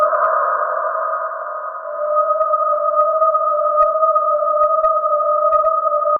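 A synthesized water harp horror effect drenched in bright marble reverb rings as two steady sustained tones, with faint metallic plinks scattered over them, holding at an even loudness throughout.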